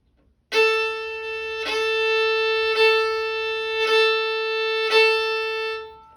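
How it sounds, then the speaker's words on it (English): A sustained instrumental tone rings steadily, with five evenly spaced accented attacks that each push the note louder at the start. "And an accent, it would sound like this."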